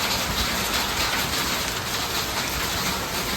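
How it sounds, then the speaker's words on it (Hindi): Heavy rain pours during a hailstorm in Chiri before Mandla, heard from someone sheltering on a scooter: a dense, steady, loud hiss of drops hammering surfaces with no pauses and no voices. "हेल स्टॉर्म हो रहा है यहाँ पे"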